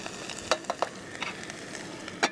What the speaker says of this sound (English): I guess you could use it like this to stir your stuff